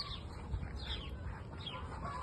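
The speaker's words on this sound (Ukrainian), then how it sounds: "Это курочки." Hens clucking in short, scattered calls over a steady low farmyard rumble at a horse club and zoo in Aktau, moderately close.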